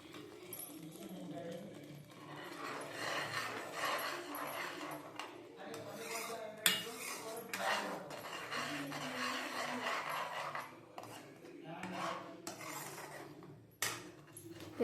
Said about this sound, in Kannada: ಈ ಮೂರು ಹಾಕ್ಕೊಂಡು ಚೆನ್ನಾಗಿ ಸ್ವಲ್ಪ ಮಿಕ್ಸ್ ಮಾಡ್ಕೋಬೇಕು